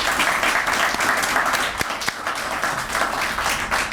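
An audience at a community college event bursts into loud, sustained applause for honoured students, a thick, close patter of many hands with a brief dip midway before it resumes at full strength.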